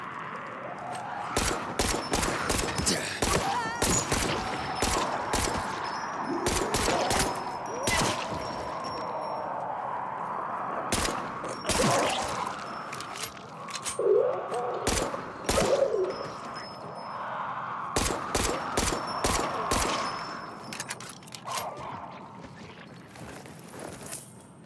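Pistol gunfire in Dying Light 2, heard as a long run of sharp, loud shots, often fired in quick clusters, with a murmur of game ambience and faint bird-like cooing between bursts.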